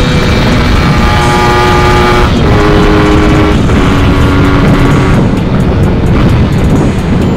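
A motorcycle fitted with a TM34 carburetor on a test ride, its engine droning loudly and steadily up close with shifting pitch as the throttle rises and eases off, with wind rush and no talking.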